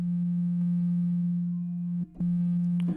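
Synthesizer tone from a free VST plugin built for R&B and hip hop, holding a steady low pitch with rich harmonics, cutting out briefly near the end and then resuming before stopping; no voices.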